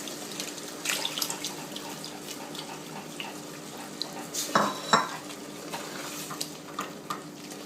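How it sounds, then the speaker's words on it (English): Liquid poured into a pot of cooking lečo followed by stirring, with soft scraping, splashes and a couple of sharper clinks against the metal, close up. "And let's pour it in and keep stirring."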